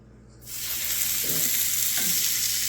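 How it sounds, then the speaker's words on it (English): A loud, steady sizzle of short ribs searing in a hot pan bursts in after a brief quiet moment and hisses continuously to the end. "when you're searing, this is what you want to hear"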